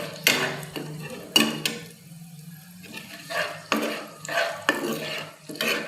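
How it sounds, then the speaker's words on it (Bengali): Whole cumin seeds and dried chilies fry in hot oil over a high flame, with a crackling sizzle broken by several scraping stirs of a utensil against the pan, close and fairly loud. "এটাকে হাই ফ্লেমে আমি ভেজে নিচ্ছি।"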